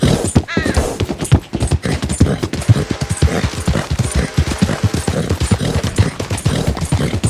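Horses trotting in the video game Red Dead Redemption 2: a loud, steady clip-clop of hooves drumming in a fast, continuous rhythm throughout, with no talk.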